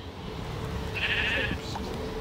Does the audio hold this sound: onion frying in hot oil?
no